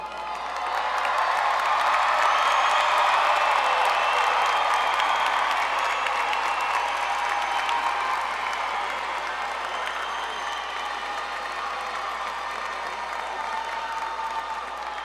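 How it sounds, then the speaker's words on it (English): Audience applause and cheering for University of Arkansas Pulaski Technical College graduates at a 2017 commencement, a dense, steady roar of clapping with scattered whoops filling the hall, loud and sustained throughout with little variation. "Let's give all these deserving graduates a round of applause for their accomplishments."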